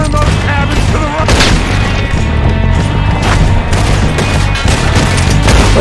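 Rapid gunfire from Red Dead Redemption 2, a dense, loud burst of booming shots and crashes that carries on without a break, while a voice can be heard briefly underneath.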